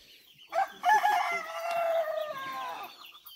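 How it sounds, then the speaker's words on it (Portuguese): Chickens cluck and a rooster crows close by at a rural homestead in the Amazon rainforest, with short bursts of calls and one long sustained crow, fairly quiet overall. "Vamos soltar aqui as galinhas."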